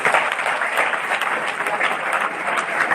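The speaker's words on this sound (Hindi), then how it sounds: "इनके लिए जोरदार ताली।" Steady, dense applause from a crowd honouring a top-scoring student at a school merit award ceremony, held at a loud, even level with no voices on top for the whole stretch.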